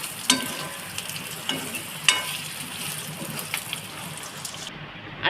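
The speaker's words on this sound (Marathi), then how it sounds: "सोयाबीन फ्राय झालेलं आहे आता ह्याला काढून घ्यायचं" Soybeans fry in oil in a pan and are stirred, making a soft continuous sizzle with intermittent sharp scraping clicks of a spoon against the metal, fairly close and without talk.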